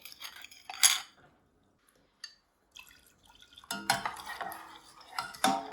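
A spoon stirs milk mixed with custard powder in a pan for a carrot dessert, giving scattered clinks and scraping in short bursts separated by quiet gaps, louder near the end.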